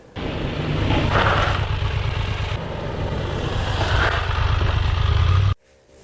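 A loud, steady Triumph Tiger 1200 Rally motorcycle engine roars continuously up close, swelling slightly a couple of times before cutting off abruptly.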